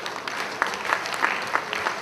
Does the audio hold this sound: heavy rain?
no